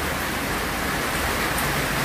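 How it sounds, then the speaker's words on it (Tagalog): Heavy rain pouring down in a dense, constant hiss of drops on surfaces, loud and unbroken, with no voices. "na kusog kayong ulan"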